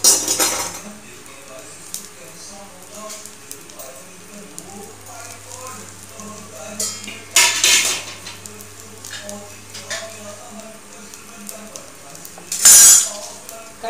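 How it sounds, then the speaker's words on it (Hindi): A wooden ladle clatters and scrapes against a pan while garlic and cumin fry, with soft sizzling and a few sharp clinks. A voice talks faintly underneath. "कड़छी देखिए मैंने लकड़ी वाली ले ली है, उससे खटपट खटपट ज़्यादा होता है।"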